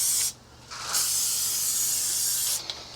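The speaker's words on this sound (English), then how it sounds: "What part we gonna spray first?" Bursts of aerosol lubricant spray hissing loudly on an RV slide-out of a Freightliner XC motorhome, a short spurt followed by a longer continuous spray, then another brief burst.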